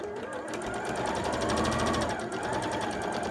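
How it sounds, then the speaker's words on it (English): A sewing machine runs steadily, stitching the back seam of a fabric scrubs hat, a fast even whirr of the needle close up, with no talk over it. "Stop when you get to a pin always, don't sew over the pins."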